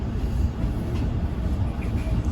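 Steady low rumble of the new Amtrak Borealis passenger train riding on its opening day, heard from inside a Horizon car as a continuous close, even roar with no distinct clicks.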